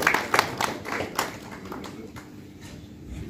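Audience applause welcomes a guest at a charity event at Islamabad Club, steady scattered clapping from a crowd, fairly close and fading slightly over a few seconds.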